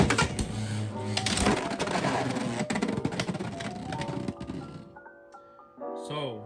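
Beyblade X tops KnightLance 4-80HN and Hell Scythe clash loudly in a plastic stadium, giving a dense stretch of rapid scraping, grinding and clacking that thins out as they slow. A few light clicks follow near the end.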